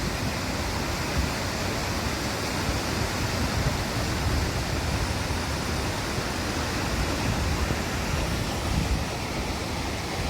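Clear water rushes through a wild forest area, a steady, broad roar like a waterfall or fast stream, loud and unbroken throughout, with no voices.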